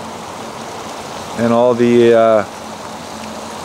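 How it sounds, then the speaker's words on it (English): A backyard fish pond, above ground and fitted with a waterfall, gives off a steady rush of falling water that continues under a man's brief speech. "The above ground pond and the waterfall."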